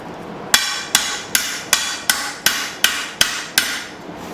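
A hammer striking hot steel while forging a Bowie knife, landing nine sharp, evenly spaced ringing blows close by in a steady rhythm, with no voices.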